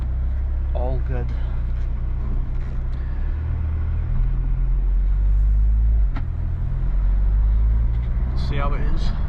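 An Audi/VW car just after a Haldex service runs a short road test, with steady loud low engine and road rumble throughout and a person talking over it briefly near the start and end.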